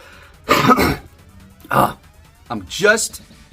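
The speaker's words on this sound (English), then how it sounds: "I got to clear my throat." A man clears his throat several times in short, harsh bursts close to the mic, with brief pauses between them.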